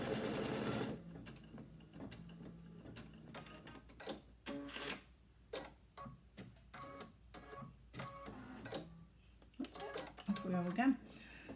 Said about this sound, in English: So now we're doing the placement stitch for the large piece, the last piece on this corner.